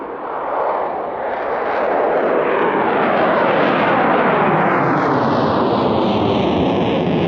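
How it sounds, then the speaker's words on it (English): A Sukhoi Su-35S multi-role fighter jet roars past, a loud broadband engine rumble that swells and holds steady with a shifting whine, no voices. "Sukhoi Su-35S super manoeuvrable multi-role fighters are in service"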